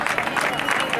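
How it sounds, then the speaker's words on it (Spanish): Spectators at a Valladolid triathlon finish clapping and cheering as a dense, continuous wash of applause. Crowd voices mix in throughout. "¡Fuertes aplausos, sí señor!"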